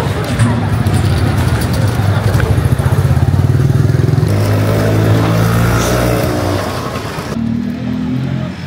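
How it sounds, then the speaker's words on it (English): Motor scooter riding past on a busy Moroccan market street, a loud buzzing two-stroke engine close by that shifts pitch as it passes, with crowd chatter and street noise underneath. "Some people are driving a scooter"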